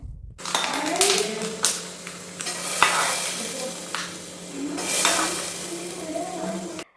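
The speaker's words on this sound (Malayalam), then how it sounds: "കടുക് പൊട്ടിയിട്ടാകുമ്പോൾ ഇതാ തേങ്ങാക്കൊത്ത് ഇട്ടിട്ട് നല്ലോണം മൂപ്പിച്ചെടുക്കണേ" Coconut pieces sizzle and crackle in hot oil with popped mustard seeds in a pan, while a spoon stirs and scrapes against the metal; a voice speaks over the frying.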